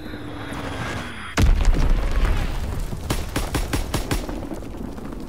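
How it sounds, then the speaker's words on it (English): A bomb blast in the World War II shooter Call of Duty WWII, one sudden heavy boom followed by a rumbling tail and scattered crackling gunshots in the background. "Enemy bomb incoming!"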